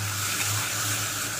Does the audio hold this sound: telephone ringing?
no